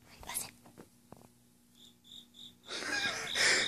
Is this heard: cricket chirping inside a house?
yes